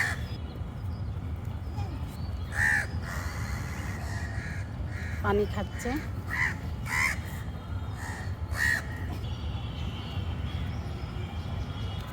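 Several crows caw near a home where rice has been left out, with sharp calls at irregular intervals over a steady low rumble and a brief spoken phrase partway through.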